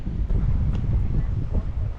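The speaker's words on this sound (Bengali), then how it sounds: "এই যে শীতল বাতাস আহ কি সুন্দর" Cool wind blows across a river bank in a southern coastal area, a loud, close, gusty rumble buffeting the microphone for a couple of seconds, with no talking.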